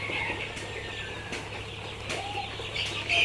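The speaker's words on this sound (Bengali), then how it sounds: "মুরগিগুলো খুব সুন্দর আছে কোনো সমস্যা নেই" Sonali (golden) chickens on a poultry farm cluck and call in a steady, busy background, with occasional brief wing flaps and no talk.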